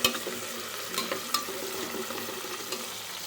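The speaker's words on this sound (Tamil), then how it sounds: "இது எல்லாத்தையும் ஒன்றா சேர்த்து நல்லா கிண்டி விடுவோம்." Fried onion, tomato and green chili stirred in a pan for a chicken leg piece biryani, giving a close, steady sizzle broken by spoon scrapes and light clatters against the pan.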